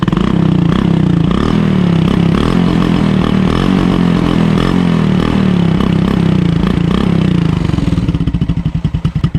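Suzuki Smash 110 motorcycle fitted with a 51mm big elbow and Raider 150 canister exhaust, revving close up with a loud, throaty engine note that holds high before dropping to a choppy, pulsing idle.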